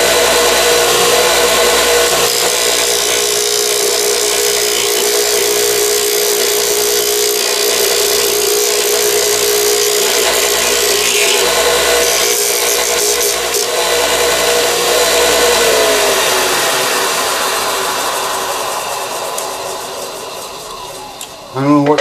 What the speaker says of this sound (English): I don't know what grit that sandpaper is, but it sure takes that thing down in a hurry.